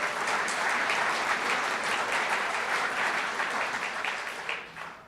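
Sustained applause from an audience at an event honoring sponsors, a dense steady wash of clapping that tapers slightly near the end, with no talk over it.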